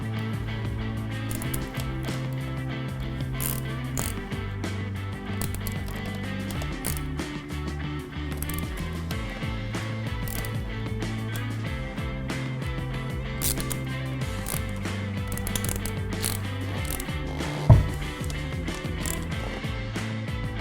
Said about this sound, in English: we're going to go and tighten the pinch bolts to 19 Newton meters in an alternating